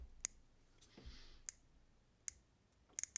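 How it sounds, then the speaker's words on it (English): Sharp, distinct clicks from the turret of a DiscoveryOpt LPVO rifle scope being adjusted, a few spaced single clicks followed by a quick cluster of three or four at the end, close and quiet, with no talking. "Now let's listen to our audible clicks and see if we get good clicks."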